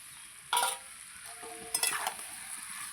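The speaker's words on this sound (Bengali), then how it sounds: "ভাজা চিংড়ি মাছটা দিয়ে দিচ্ছি।" Fried prawns go into a vegetable curry in a pan, bringing a sudden burst of sizzling followed by stirring and a second crackling surge, close and without speech.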